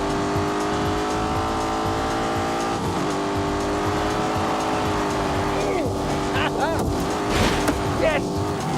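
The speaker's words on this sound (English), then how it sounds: "Then we come to the engine. It's a 4-litre V8. It has twin turbos." A twin-turbo 4-litre V8 engine in a racing video game drones and whines steadily with shifting pitch, joined later by tire squeal, loud and continuous under someone talking.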